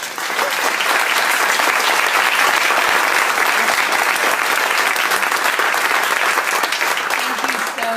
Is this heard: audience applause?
yes